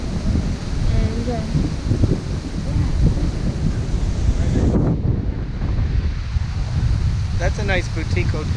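Strong wind buffets the microphone on a windy beach at Cabarete during kite-surfing season, with ocean surf rolling underneath and people talking briefly over the roar.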